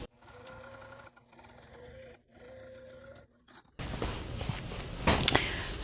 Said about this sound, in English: So I'm just gonna stitch that in place.